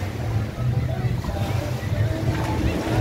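Warm-water surf rolls in steadily at Martim de Sá beach in Caraguatatuba, a broad, continuous wash of waves and wind with faint background voices mixed in.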